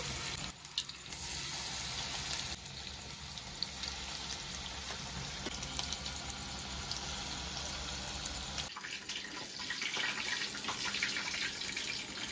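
Battered chicken pakoras deep-frying in hot oil make a steady, dense hiss that carries on without a break. The bubbling shifts slightly in texture partway through.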